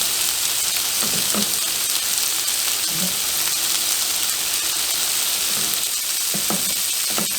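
Four eggs scrambled in a hot skillet, with a continuous bright sizzle and intermittent scraping stirs of a utensil against the pan, close and steady throughout.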